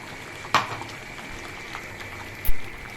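Hariyali chicken curry cooks in a pan with mint and coriander paste, giving a low, steady bubbling simmer with a couple of brief clinks or stirs.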